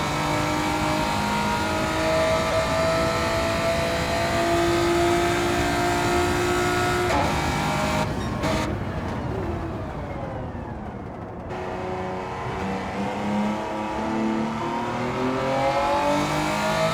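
GT2 race car engines roaring and revving in Gran Turismo 7 during an endurance race, a loud continuous drone with rising and falling pitch as cars pass and shift, steady and close throughout with no talk.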